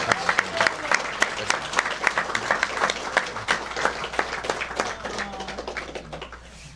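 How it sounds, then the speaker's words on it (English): A crowd claps and applauds steadily, dense and fairly loud, trailing off slightly toward the end. "give a round of applause for BJ"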